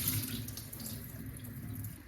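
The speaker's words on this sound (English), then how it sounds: "Always wash the rice with cold water." Cold tap water runs steadily into a bowl of sushi rice being rinsed, a soft continuous splashing stream, close and alone.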